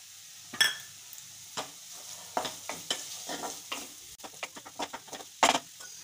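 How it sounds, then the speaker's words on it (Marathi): Coarsely crushed cumin, fennel and ajwain are stirred in a hot pan, a soft crackling sizzle broken by irregular scraping stirs and a few sharper clacks of spoon on metal, close and fairly quiet. "आता यात मी घालणारे आपण बारीक केलेले जिरं, बडीशोप आणि ओवा जे बारीक कुटून घेतलेलं होतं जाडसर ते घालायचे"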